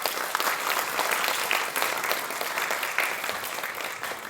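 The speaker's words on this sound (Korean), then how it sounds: "큰 박수로 맞이해 주시기 바랍니다." An audience applauds at a concert celebrating a Korean traditional music ensemble's 30th anniversary, a dense, sustained wash of many hands clapping that stays steady and full before easing slightly at the end.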